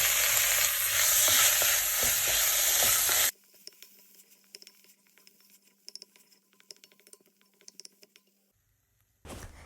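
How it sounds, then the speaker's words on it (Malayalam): Tomatoes for chutney sizzle loudly in a hot pan at first, then give way to quieter, scattered scraping and patting as they are stirred, ending in near silence before a brief burst of noise. "ഇനി ഇതിലോട്ട് തക്കാളി ചേർത്തിട്ട് നന്നായിട്ട് കുക്ക് ചെയ്തെടുക്കാം"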